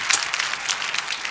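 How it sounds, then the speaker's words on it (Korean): Brief, fairly quiet applause from an audience at a Korean church rally, a steady wash of clapping lasting about a second with no talk over it. "자, 박수하겠습니다."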